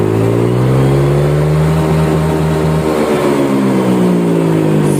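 Honda Vario automatic scooter engine with a changed exhaust filter, revving loud and close, pitch climbing then falling back in a smooth sweep with a slight buzz of vibration.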